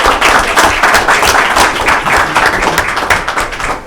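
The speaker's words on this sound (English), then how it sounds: "One more big round of applause." Applause from the audience at a City of Warrensburg council meeting fills the room as dense, loud, steady clapping, with no voices over it.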